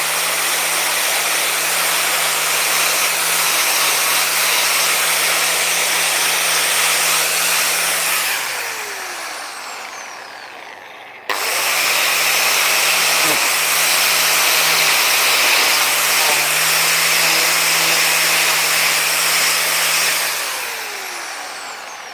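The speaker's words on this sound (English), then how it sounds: "A bit more sand to get more shape on that one." A power sander works a gargoyle letterbox sculpture, droning loud and steady with a constant hum. It winds down near eight seconds, then restarts for another long pass that tapers off at the end.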